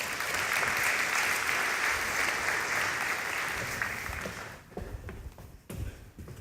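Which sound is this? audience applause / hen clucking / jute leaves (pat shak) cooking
audience applause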